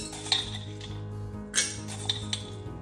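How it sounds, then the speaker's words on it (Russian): Light metallic clinks of a teaspoon tapping against glass jars while adding a pepper mix for pickled cucumbers, a few scattered taps close by in a quiet room. "И теперь добавлю туда смесь перцев по чайной ложечке."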